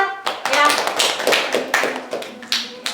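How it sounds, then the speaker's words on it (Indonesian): Students clapping together in a classroom, a quick burst of rhythmic hand claps close by, with a teacher's voice mixed in. "Tepuk tangan."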